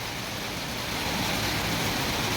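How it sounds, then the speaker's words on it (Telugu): Heavy rain pours down steadily in Kuwait, a dense, continuous hiss of water close by that fills the whole stretch with no voices over it. "ఎన్నడూ కురవలేనంటూ వర్షం ఈ రోజైతే పడుతుంది కువైట్లోనూ"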